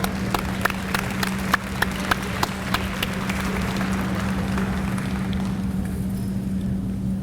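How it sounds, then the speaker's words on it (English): Convocation audience applauding honored students, with a few sharp distinct claps at first merging into a dense wash of clapping over a steady low hum, thinning out near the end. "Now let's give them applause"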